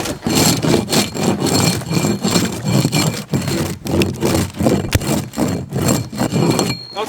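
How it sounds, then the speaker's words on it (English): An axe blade is pulled as a scraper across a surface in a backyard, giving repeated loud, rough rasping strokes about twice a second with short gaps between them. "I just didn't find another scraper tool, but the axe is really working so well."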